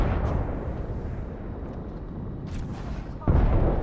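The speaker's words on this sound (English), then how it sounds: "Look out, grenade." Grenade blast in Apex Legends, heard as a sudden loud boom near the end that cuts through steady game ambience, preceded by a couple of fainter bangs.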